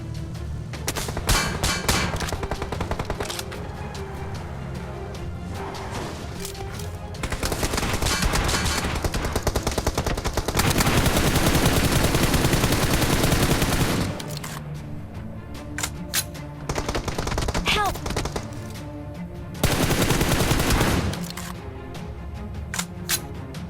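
Repeated bursts of loud automatic gunfire in PUBG Mobile, some long sustained volleys and shorter clusters of shots, crackling over a dense game soundscape.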